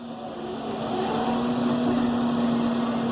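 Steady engine drone of a New Holland tractor driving in 7th gear, a continuous hum with a constant tone that builds slightly in loudness and stays even throughout.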